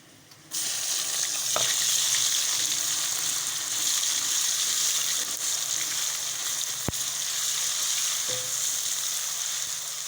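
A pan bursts into steady, loud sizzling as ginger and garlic hit hot oil with browned onions, frying continuously close by, with a couple of faint clicks.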